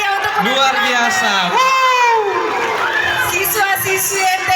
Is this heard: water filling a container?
no